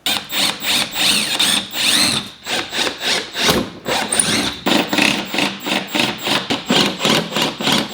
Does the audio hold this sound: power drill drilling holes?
yes